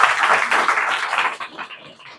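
Short burst of classroom applause from students in a general-knowledge lesson, brisk clapping that starts strong and fades out over about two seconds.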